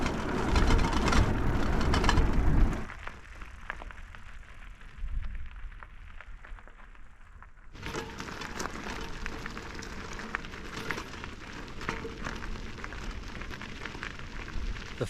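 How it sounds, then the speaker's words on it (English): Rain starts falling outdoors on a mountain bike route along the Great Divide. A dense, hissing patter runs loud and close, drops away for several seconds, then returns just as strong. "The first rain of the trip."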